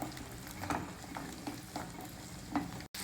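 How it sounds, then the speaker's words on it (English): Shallots and five or six garlic cloves sauté lightly in a pan, making a soft, low sizzle broken by a few spoon scrapes and taps, fairly quiet with no voices. "So first we'll add in these shallots, 5 or 6 garlic cloves, and lightly saute them for a few minutes."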